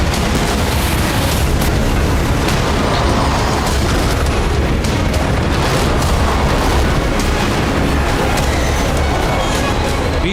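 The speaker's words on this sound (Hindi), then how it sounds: "सऊदी अरब के रिफाइनरी शहर जिझान पर 4 मिसाइलों और 6 विस्फोटक ड्रोन से हमला हुआ" Missiles and explosive drones striking the Saudi oil refinery city of Jizan at night: a loud, continuous roar of booming blasts and rumbling fire running through the whole stretch.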